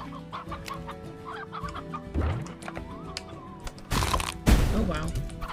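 Chickens in the Slime Rancher video game cluck repeatedly in short, busy bursts against game ambience. Two loud cracking blasts break in late, and a voice talks over part of it.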